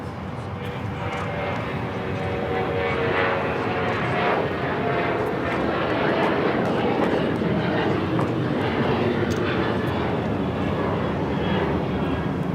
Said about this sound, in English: This is American Airlines 2343 taking off to Raleigh-Durham on the 737-800.